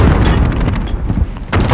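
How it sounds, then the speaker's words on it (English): A grenade in Call of Duty: Modern Warfare (2019) goes off in a heavy, loud boom, and its deep rumble trails away before a second burst near the end. "Grenade out!"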